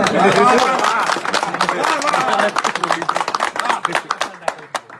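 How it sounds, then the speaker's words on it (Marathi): A crowd at a heated public gathering breaks into brisk, rapid clapping that swells and then thins into scattered claps, with voices mixed in. "टाळ्या वाजवा रे सगळे."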